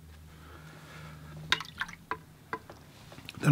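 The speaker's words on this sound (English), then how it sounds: "Then I can rinse off my brush" A watercolor paintbrush being rinsed in water, a faint watery swish followed by several small, distinct splashes and drips spaced unevenly, close and quiet with no talk.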